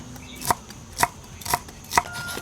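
A knife chops akar tumbal root together with black pepper and garlic on a board, four sharp, evenly spaced strikes in a quiet kitchen.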